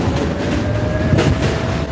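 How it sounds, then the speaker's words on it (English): A train rolling past nearby, a steady loud rumble with rhythmic clacking of wheels on the rails. "Is that a train to my left?"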